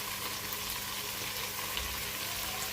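Onion sizzles as it fries in a pan after shrimp and rice have cooked. The sound is a steady, fairly faint hiss with light bubbling and no talk.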